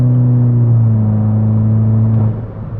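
A Mk6 Volkswagen GTI fitted with a CTS Turbo downpipe pulls hard in sixth gear from about 65 mph, its engine droning loud and steady from the cabin before easing off near the end.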